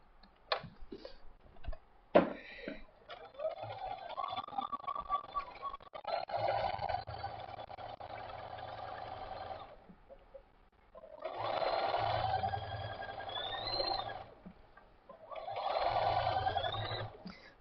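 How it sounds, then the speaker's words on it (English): Quilt pieces stitched on a sewing machine, running in three steady whirring bursts of several seconds each, separated by short pauses filled with faint clicks and handling noise; close and moderately loud, with no talking. "And now we're going to sew this up."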